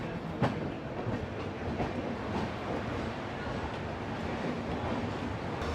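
A Double Decker Express train rolls into Jaipur Junction station, its steady rumble and clickety-clack of wheels over rail joints filling the whole stretch without a pause.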